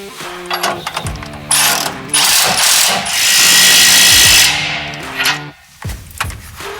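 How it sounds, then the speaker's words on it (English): An impact wrench snugs up 5/8 U-bolts during a 2-inch lift kit install on a 2016 Dodge Ram 3500, firing loud, close, rattling bursts of hammering with short pauses and a sustained run in the middle. "We're going to hit it with an impact just to suck them up real tight"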